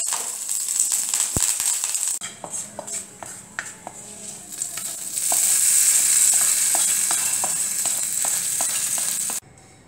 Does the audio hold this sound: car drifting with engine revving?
no